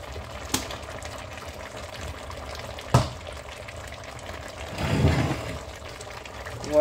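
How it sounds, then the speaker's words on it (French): An oxtail broth seasoned with salt, made without oil, bubbles in a pot, a soft, low simmer broken by a couple of sharp clanks and a brief, louder surge of bubbling. "Maintenant, je vais laisser bouillir."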